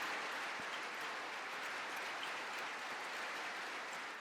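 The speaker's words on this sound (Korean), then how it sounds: "박수가 이어져서 연설을 못합니다." A crowd keeps up continuous applause that interrupts a political speech, a dense, even wash of clapping heard at a distance at steady loudness throughout, with no speech over it.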